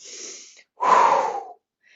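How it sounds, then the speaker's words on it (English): Two forceful exhalations, one short and softer and then a longer, louder rushing breath, blown out hard like a fire-breathing dragon, close and alone without speech. "and just breathe it out into the world."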